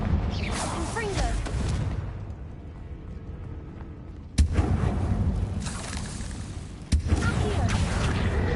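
Confringo fire spell blasts in Hogwarts Legacy, booming explosive bursts with sharp cracks and rumbling decay, mixed with other game effects and speech.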